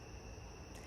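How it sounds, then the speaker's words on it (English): Cicadas singing in the shade trees on a hot summer day, a steady high-pitched buzzing drone that holds evenly throughout, fairly faint and distant with no voices. "I'm loving the sound of the cicadas that are loving these trees around me right now."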